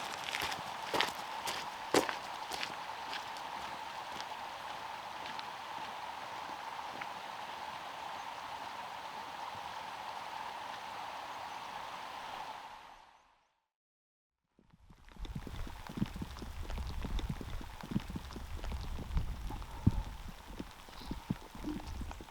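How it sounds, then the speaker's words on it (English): Heavy rain falling on a walker along the River Severn trail in Wales, a steady hiss with footsteps squelching, cutting out briefly before resuming with rougher crunching steps. "I've come to the conclusion this is a place that doesn't stop raining"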